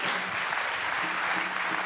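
A church congregation claps in acclamation, dense and sustained applause filling the room at steady loudness with no pauses.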